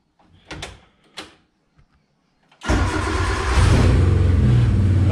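A car engine is started with a key in a newly installed ignition switch after a battery install: a few faint clicks, then the engine catches and settles into a loud, steady run.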